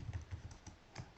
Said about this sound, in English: So I will type in the substring